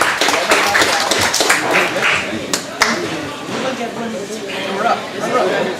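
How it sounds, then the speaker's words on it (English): An audience at a startup night applauding a trophy winner, a dense patter of clapping with some sharper individual claps, mixed with crowd chatter and voices throughout. "Everyone give him a round of applause"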